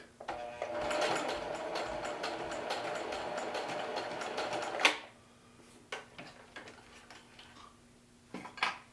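Sewing machine stitching back and forth on a pocket bar tack, a steady rapid mechanical whir that stops abruptly, followed by a few faint clicks and taps.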